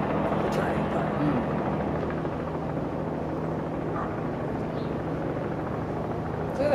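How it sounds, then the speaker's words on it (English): A helicopter hovers over a south bridge span float-in, giving a steady, even drone with a low hum that holds for the whole stretch, with faint voices around it. "Look at the helicopter just sitting there."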